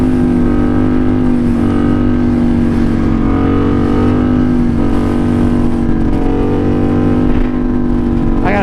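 A Yamaha FZ07 motorcycle engine drones at a steady, loud, close pitch throughout a long wheelie, holding a constant throttle with no talk.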